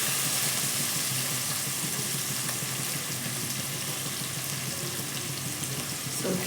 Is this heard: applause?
no